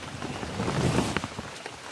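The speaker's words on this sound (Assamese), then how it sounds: "বৰষুণটো এৰাই নাই এনেকৈ দিয়ে আছে" Rain falls steadily at night in a forest, a close, soft hiss of drops on surfaces over a brief moment, with no talk.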